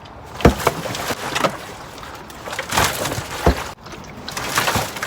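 A plastic compost tumbler is spun by hand, giving repeated hollow knocks, thumps and the rattle of contents tumbling inside, close and irregular.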